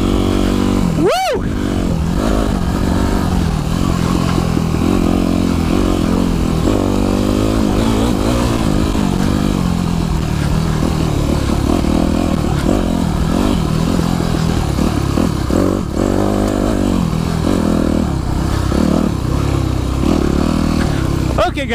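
Dirt bike engine revving and labouring continuously on a rough, bumpy forest trail on the Jones Creek loop, loud and close throughout with clattering from the rough ground, and a rider's voice faintly underneath.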